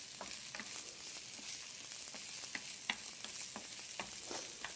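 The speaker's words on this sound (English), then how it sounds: "we're going to use a wooden spoon to stir it around to avoid scratching the bottom of the pan." Onions sautéing in a pan, stirred with a wooden spoon: a soft, steady sizzle with regular light scraping taps from the spoon, close and without any talking.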